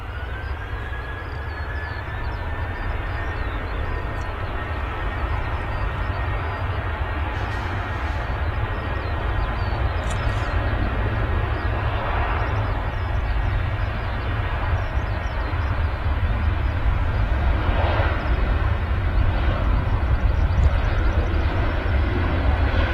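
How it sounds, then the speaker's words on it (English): A Ryanair Boeing 737 departs Manchester Airport, a loud, steady jet roar holding broadly throughout with a rising whine layered on top, sustained rather than fading. "There goes the Ryanair 737."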